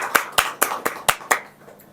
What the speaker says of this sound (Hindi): जोरदार तालियों के साथ में सर का स्वागत करते हैं